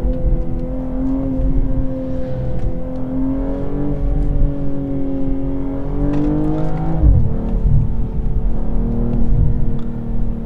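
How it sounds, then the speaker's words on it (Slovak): A 2021 BMW M240i's engine and exhaust while driving, a steady deep drone with rising and falling revs and a brief shift dip, heard from inside the car. "Proste ten zvuk toho výfukového systému je slabší ako vo verziách doposiaľ"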